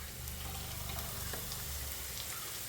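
Chopped cabbage tossed into a hot frying pan, a soft, steady crackling sizzle with faint scattered pops and a low background hum, quiet and close, no talking over it.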